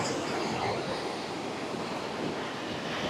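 Sea waves washing onto the beach at Calicut in a constant broadband roar of surf, with wind buffeting the microphone, loud and close, with no voices.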